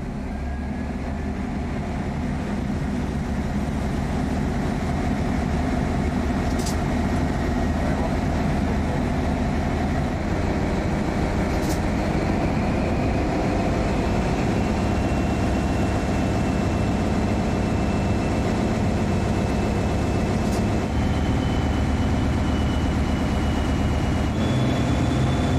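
SNCF CC 72000 diesel locomotive 72009 runs under load testing, its diesel engine and electric alternator being tuned together. A loud, sustained heavy engine drone holds steady throughout, broken by a few brief sharp clicks.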